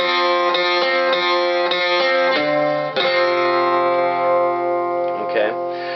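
Close acoustic guitar strumming, a repeating down-up pattern of bright chords that rings on, ending with a few quick muted strokes.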